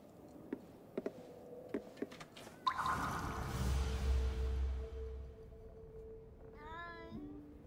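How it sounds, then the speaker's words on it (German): A cat meows in the video game Ghostwire: Tokyo, a short rising-and-falling call near the end, after scattered clicks and a burst of soft watery ambience; no one speaks. "Noch eine Katze."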